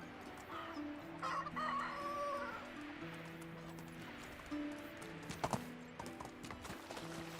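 Chickens cluck and a rooster crows on a medieval farm in the Medieval Dynasty video game, faint and intermittent over ambient background, with a few sharper knocks and occasional hoof-like clip-clop sounds.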